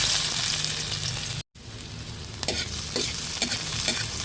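Garlic and onion sautéing in a frying pan for ginisang upo, a steady bright sizzle with scraping stirs, briefly cutting out midway before resuming, no voices.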